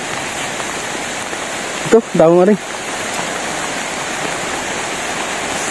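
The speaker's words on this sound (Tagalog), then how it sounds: "Ang ulan." Steady heavy rain pours over a rural provincial setting, a dense even hiss running throughout, with a brief burst of speech from a person partway through.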